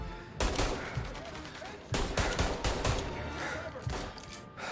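Gunfire in the Mafia: Definitive Edition video game: bursts of rapid shots in a few clusters, loud and close, with brief gaps between volleys.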